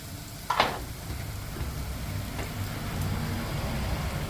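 Crushed spices sautéing in oil in a pan give a soft, steady sizzle throughout, with one brief sharper clatter near the start.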